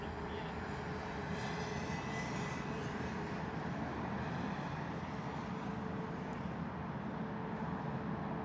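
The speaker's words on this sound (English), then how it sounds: "Lovely rotation there from the 319. Not needing much runway at all to get up and off and up in the air." An Airbus A319 departs from Heathrow, a steady, fairly distant engine roar holding constant through the takeoff climb with no breaks.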